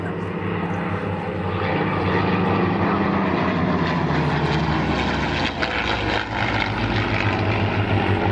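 A Spitfire fighter plane flies at the Temora air show, its propeller engine a loud, steady roar that holds close and strong for several seconds.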